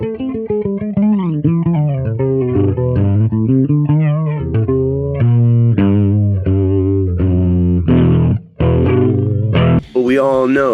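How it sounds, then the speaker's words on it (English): Kramer Baretta Special electric guitar through heavy distortion, loud chugging riffs and sustained chords with short breaks between phrases, and a squealing high lick at the end. "we got this bad boy to hit that heavy distortion."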